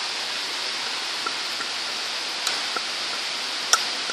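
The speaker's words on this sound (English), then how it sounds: "See that? All that rain." Heavy rain falls during a thunderstorm beside Van Cortlandt Park in the Bronx, a constant broad hiss with a few sharp ticks of drops striking a nearby surface.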